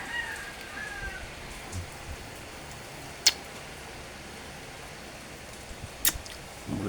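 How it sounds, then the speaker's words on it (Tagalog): Steady rain falling on an overcast afternoon, a continuous soft hiss of drops with a couple of sharper close clicks, moderately loud and with no voices. "Yan, umulan na naman."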